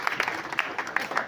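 A student audience at a school awareness talk gives a brief round of clapping, a handful of distinct claps in an uneven rhythm, fairly close.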